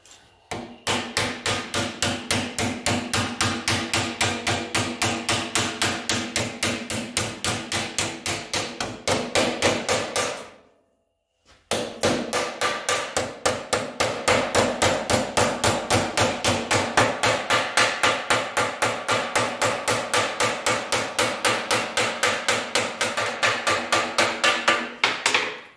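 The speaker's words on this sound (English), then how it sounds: "And I'm going to hammer that over there." Rapid, evenly spaced hammer blows on metal over wood blocks ring out continuously, pausing briefly once before the steady pounding resumes, loud and close.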